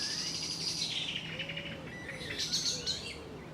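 Young coots call beside the River Thames on a riverside path near Goring, a thin high squeaky peeping that repeats in short faint bursts amid quiet outdoor background, with no one talking.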